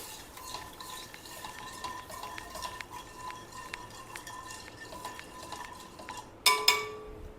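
Curd mixed with salt in a bowl for a Navratri prasadam rice dish, soft steady scraping and stirring with a spoon, ending in a sharp clink of metal against the bowl.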